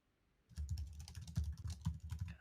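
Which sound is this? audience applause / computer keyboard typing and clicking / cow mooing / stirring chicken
computer keyboard typing and clicking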